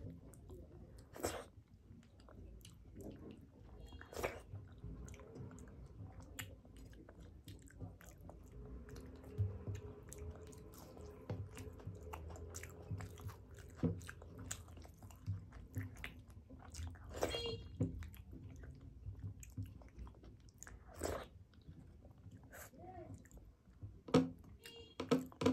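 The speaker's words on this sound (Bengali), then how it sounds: "একদম নিয়ে নিলাম ডালটা, হাপুস হুপুস করে খাবো এবার" Rice mixed with Bengali bulir dal, aloo posto and cabbage pakora being eaten up close, with soft wet squishing and chewing, occasional crunchy bites and sharp clicks scattered through a long stretch of steady eating, no talk.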